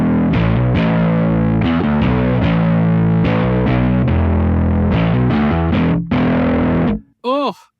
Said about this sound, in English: So turning this over to the omega side,